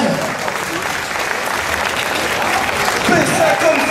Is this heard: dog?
no